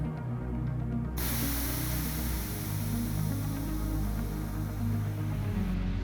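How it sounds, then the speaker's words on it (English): Air hissing out of a golf cart tire as it deflates: a loud, steady hiss starts abruptly after about a second and runs continuously to the end, over a low mechanical hum. "and deflate the tire."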